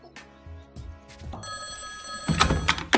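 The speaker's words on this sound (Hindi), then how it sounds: "अभी फोन करके पूछ रही हमें" A telephone bell rings in bright bursts, rising over faint thumps and room noise and getting louder toward the end.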